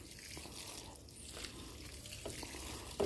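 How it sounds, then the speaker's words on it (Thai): Water pours and splashes steadily onto damp worm bedding in basins on a shelf, with a soft continuous trickle and a few louder splashes, close and alone. "นี่เรามาลดน้ำครับ ลดน้ำเลยนะครับ"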